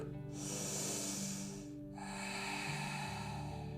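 Deep, slow breathing during an evening yoga session, with a long airy inhale followed by a steady exhale, close and fairly quiet over soft background music, with no talking.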